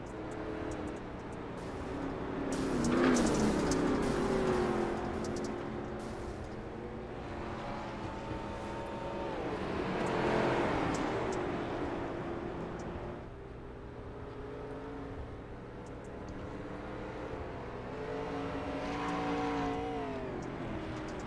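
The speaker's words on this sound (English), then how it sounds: "So now we see Kyle Wellman really putting some good laps together here." Race cars lapping the dirt oval at Eldora during a Top Flight Computers National Series event, engines swelling and fading as they pass at a steady distance, with a constant drone underneath.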